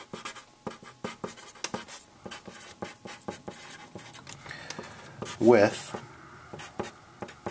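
Handwriting letters and symbols on a board or paper, a series of short scratchy strokes in quick bursts, close and fairly quiet, with someone speaking over them.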